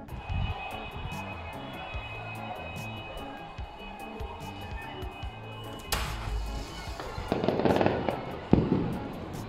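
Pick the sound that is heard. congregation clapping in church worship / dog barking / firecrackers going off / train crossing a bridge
firecrackers going off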